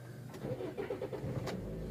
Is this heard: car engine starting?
yes